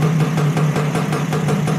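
A Lambretta TV175 scooter fitted with a BGM Sport exhaust idles with the choke on, a loud, close two-stroke putter with a quick regular pulsing beat and no voices.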